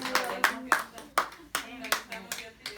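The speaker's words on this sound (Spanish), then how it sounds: "Denle un fuerte aplauso a la persona." Scattered claps from a church congregation in Spanish, a handful of separate bursts in an uneven rhythm, fairly close and moderately loud.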